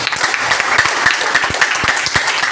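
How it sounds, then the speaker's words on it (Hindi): An audience at a business seminar in a hall claps loudly and energetically, with sharp individual claps standing out in the dense, continuous applause. "तो अपने लिए धमाकेदार ताली बजा लीजिए।"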